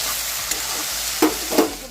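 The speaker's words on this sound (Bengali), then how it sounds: "এই কুমড়োর সাথে কেটে রাখা বাঁধাকপিটা একটু ভেজে নিচ্ছি" Cabbage and pumpkin fry in a wok with a steady, close sizzle, broken by two short scraping stir strokes near the end; no voices.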